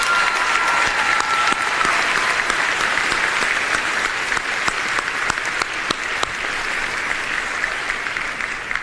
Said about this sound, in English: How about a round of applause for our school counselors?